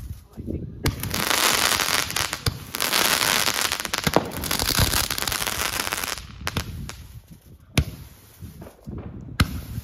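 A rapid barrage of firework bursts crackles and pops loudly for several seconds, then thins into scattered bangs and crackles.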